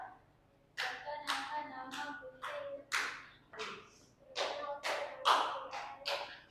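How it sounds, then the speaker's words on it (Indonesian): Classroom applause for classmates after a singing introduction: a short round of hand clapping from a small group, starting after a brief pause and continuing in uneven bursts, close and fairly loud. "tepuk tangan untuk teman-temannya"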